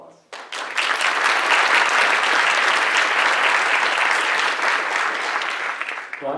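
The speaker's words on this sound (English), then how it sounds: "she's the one and her House Staff Council who really deserve a round of applause." Sustained applause from an audience at a film screening and discussion event, dense and steady for several seconds after a brief quiet start, then tapering slightly at the end.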